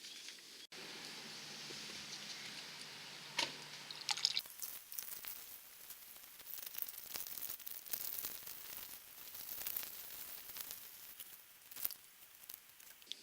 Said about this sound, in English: This is the easiest way to do it for me, is just a hose on the end of a funnel.